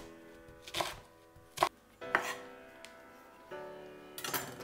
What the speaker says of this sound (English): And you start by cutting the onion.